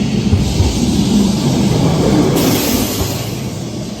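A tram rumbles past on a sloping Lisbon street, giving a steady, loud low rolling noise with faint rail clatter and street ambience and no talking.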